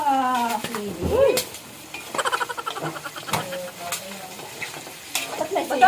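Onions sautéing in a pan for pancit kapampangan, with sizzling and frying plus stirring and scraping of a utensil against the pan. Loud and close, with a voice briefly heard over the cooking.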